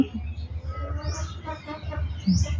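Hens cluck softly in a steady, close-by run of short calls, with faint chirps and rustling mixed in.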